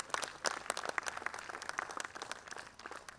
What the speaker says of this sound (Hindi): एक बार जोरदार तालियों से उनका अभिवादन करें।